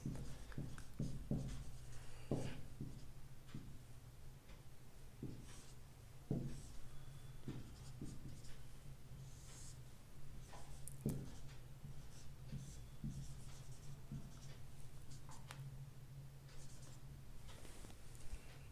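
During a maths lecture on ordinary differential equations, a pen or chalk scratches faintly in short irregular strokes and taps over a steady low room hum.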